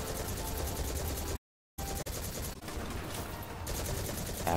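Rapid automatic gunfire from the Destiny 2 video game, loud and continuous bursts that drop out to silence briefly, then resume with dense repeated shots.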